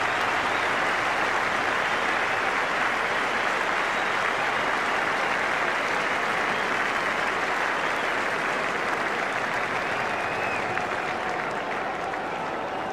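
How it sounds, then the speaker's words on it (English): Large crowd at a 1999 India Test cricket match applauding and cheering Brett Lee as he heads to the boundary, a dense, continuous roar of clapping that holds steady throughout. "Bret Lee getting a huge cheer as he trots down to the boundary"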